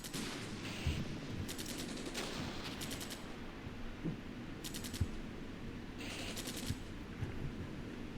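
Infantry small-arms fire in the tactical wargame Armored Brigade, during a Finnish ambush on Russian forces: quiet, scattered bursts of rifle and machine-gun shots against a low battlefield rumble.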